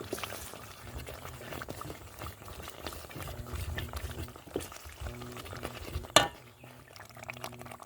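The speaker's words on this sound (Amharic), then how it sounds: "ድፍን ምስሬን እጨምራለሁ ማለት ነው።" Boiled whole red lentils go into a pot of simmering sautéed base. A soft bubbling and stirring texture runs throughout, and a brief wet splash comes near the end, with no talking.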